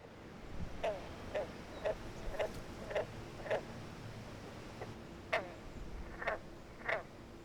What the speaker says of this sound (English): Listening to green frogs in the wild strawberry patch at the edge of the pond.